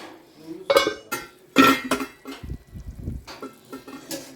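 A metal lid clanks onto a cooking pot with several loud, close knocks and rattles, followed by a brief softer shuffle of cookware.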